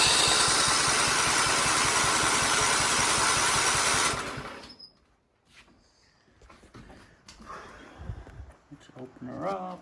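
A John Deere STX 38 lawn tractor engine runs loud and steady on choke for about four seconds, then cuts out, followed by quieter clunks and someone talking.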